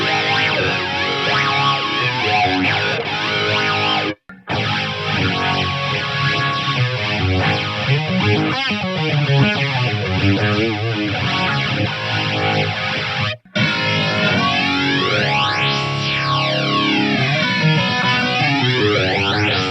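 Lexicon MPX-1 multi-effects preset with a formant resonator and centrifuge character, played dry without the large reverb: a dense, distorted, continuously sustained processed tone with swirling comb-like sweeps, broken by two brief dropouts, no voices.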